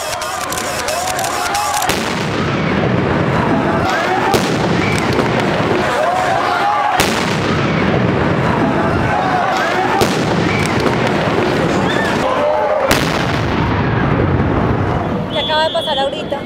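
Police tear gas canisters being fired at a street protest in Bogotá, with loud repeated booms and bangs over a constant roar of crowd noise and shouting.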